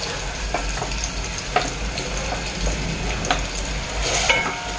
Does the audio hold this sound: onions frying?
yes